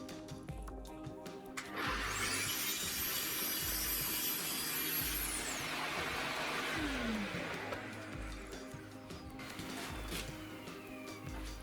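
A track saw rips along a guide rail through a wooden furniture panel, trimming it to width: a loud, steady whine running for several seconds with a rising start and a falling spin-down, set against a constant background hum.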